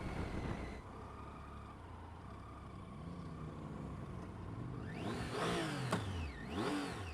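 A Triumph dual-sport motorcycle cruises in 4th gear at about 3,000 rpm with a steady, moderate engine drone. Near the end it revs up and down with rising and falling pitch.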